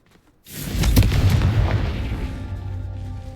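A Confringo fire spell blasts in the Hogwarts Legacy video game, a loud booming explosion that erupts suddenly after a brief quiet and rumbles on without pause until the end.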